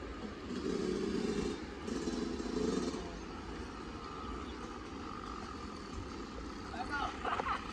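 Motorcycle engine revving and idling through slow technical riding manoeuvres such as a ratchet turn and throttle flips, a steady close engine drone with throttle surges, under an instructor's spoken coaching.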